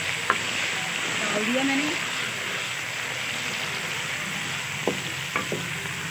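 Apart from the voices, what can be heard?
onion frying in hot oil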